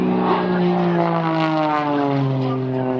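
An Extra 300 aerobatic airplane passes low at an air show, its propeller engine droning loud and steady with a slowly falling pitch as it sweeps by close overhead.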